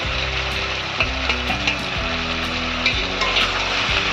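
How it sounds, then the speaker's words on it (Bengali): Potatoes fry with salt, chili powder, turmeric, cumin powder and a little sugar in a pan, giving a constant crackling sizzle with rhythmic spatula scrapes and knocks throughout. "আর একটু নাড়াচাড়া করে নেব"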